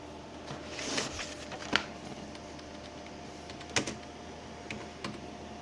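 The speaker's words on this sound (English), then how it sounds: "I type loud." Computer keyboard typing comes in sparse, uneven bursts of clicks with a few sharper key strikes, close and moderately quiet over a low room hum.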